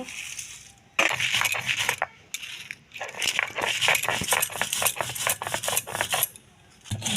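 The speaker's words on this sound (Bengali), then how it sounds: "একসঙ্গে সিরে বেটে নেব" Fried spices crushed on a flat grinding stone for homemade mango pickle, a close, dry rhythmic scraping and grating in repeated strokes with brief pauses between bursts.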